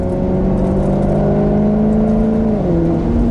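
Maserati GranCabrio convertible on the move: a steady engine drone with a smoothly shifting tone that drops slightly near the end, close and loud, heard alone without talk.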